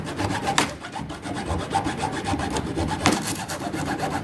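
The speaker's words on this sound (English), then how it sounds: "every time you hear a pop, that's when a nail, that's the pressure kind of releasing" A wooden plank creaks and grinds as it is pried up with a wedge, with a couple of sharp cracking pops from nails releasing standing out from the steady scraping, close and fairly loud.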